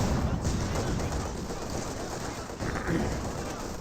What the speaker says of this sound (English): Rifle grenade firing.